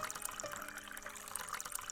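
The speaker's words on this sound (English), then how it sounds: "Water in the machine." Water running into a coffee machine in the video game Coffee in Clawville, a soft continuous trickle and pour heard alone and fairly faint.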